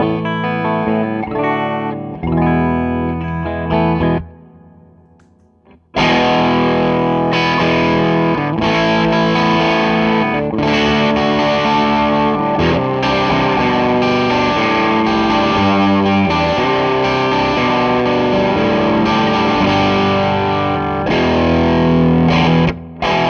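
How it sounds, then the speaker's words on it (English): Electric guitar played through a grainy distortion pedal at a medium setting, with a brief cleaner phrase first, then a pause and thick, saturated chords and riffs sustaining loudly to the end. "I'll remind you what the clean sound is, and then I'll kick in the pedal at kind of a medium setting"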